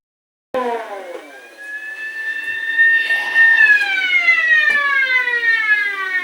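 Police car sirens from a Thunderbirds VHS tape wail loudly and close, several overlapping rising and falling tones gathering together, with no talk over them.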